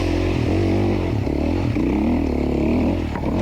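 450 dirt bike engine labouring uphill in first gear during a hard enduro race, a loud, steady close-up drone with slight rises and dips in pitch.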